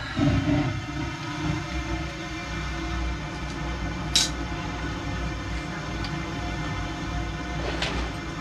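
A steady, broad roar of a low boy furnace gas burner after ignition runs throughout, with a couple of faint clicks and knocks over the constant rushing noise.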